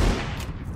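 A short burst of gunfire in PlayerUnknown's Battlegrounds, a loud, dense crack of shots packed into under a second, close and heavy.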